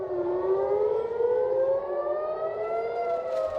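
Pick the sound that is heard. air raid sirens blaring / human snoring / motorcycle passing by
air raid sirens blaring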